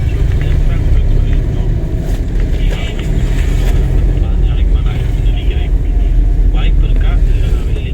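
A car engine pulls steadily in second gear during a driving lesson, a loud continuous low rumble and road drone throughout, with people talking over it.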